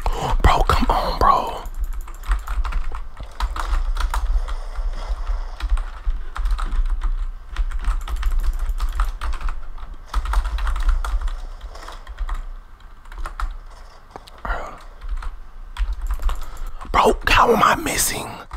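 Close computer keyboard clatter during a Roblox Strongest Battlegrounds match, rapid bursts of key presses running throughout with whispering over them.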